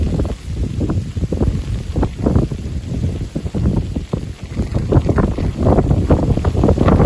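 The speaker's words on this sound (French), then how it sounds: "Là, il y a le vent s'énerve." Strong wind gusts buffet the microphone in heavy, continuous rumbling bursts that swell and ease over several seconds, with no voices.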